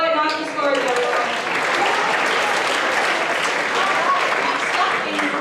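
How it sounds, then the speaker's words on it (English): An audience at a grade 9/10 spoken word poetry final applauds a student poet, with sustained, dense clapping that starts right away and holds steady and loud throughout, with some crowd noise mixed in. "applaud the poet, not the scores, everyone."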